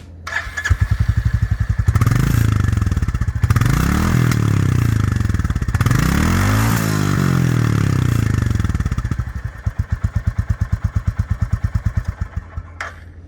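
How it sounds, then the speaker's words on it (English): A Royal Enfield Classic 350 motorcycle with a retro-styled exhaust pipe starts, then revs up and down several times in loud, close bursts, and settles into a steady thumping single-cylinder idle. "We really like the retro styling of the exhaust pipe, and while we are at it, let's have a listen."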